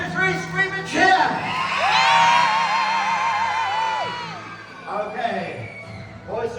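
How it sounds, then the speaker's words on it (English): A group of children at a theme park show screams and cheers loudly, whooping voices rising together and sustaining for a few seconds before trailing off into scattered shouts. "give her a great big scream and a cheer"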